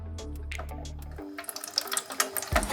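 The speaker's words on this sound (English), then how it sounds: "We're gonna dump in cold water from the fridge and test it out" Cold water from the fridge is poured into the tank of an Ontel Arctic Air Pure Chill portable cooler. A steady low hum gives way to splashing, trickling water with irregular gurgles and small bumps.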